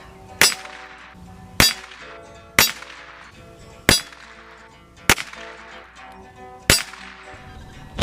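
Henry Frontier rifle shots strike a steel target at 25 yards, six sharp ringing clangs spaced about a second apart, each with a bright metallic decay between impacts.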